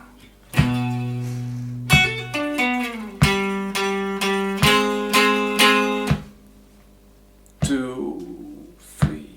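Electric guitar plays a song intro in context: a string of struck chords and single notes in a loose rhythm, ringing then pausing before two final strums, close and solo.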